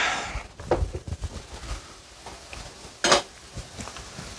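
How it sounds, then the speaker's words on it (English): A pot lid comes off a simmering pan of shrimp couscous stir fry with a single brief metallic clatter, surrounded by soft kitchen clinks and faint background noise. "I'm supposed to stir that in, so I'm going to take the lid back off."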